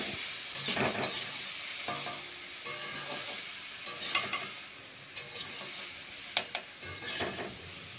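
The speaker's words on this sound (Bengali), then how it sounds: "এবার এটাকে কিন্তু নাড়তে থাকতে হবে।" Pumpkin and potato pieces fry in a pan with salt and turmeric, giving a steady sizzle broken by repeated scraping strokes of a spoon or spatula as the mixture is stirred.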